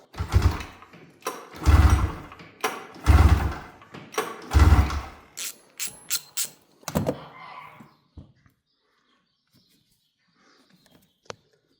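A Polaris Indy 700 XC snowmobile engine with no fuel reaching it is pull-started: about eight rapid, loud rope tugs in a quick series, each a short whirring crank that fails to catch, then near silence with a faint clunk.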